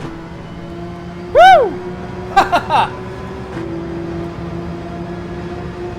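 Race car engines in Gran Turismo 7 on the Deep Forest track, played in VR while drag racing up the main straight, hold a steady droning hum interrupted by a voice's loud whooping exclamation and a few short bursts.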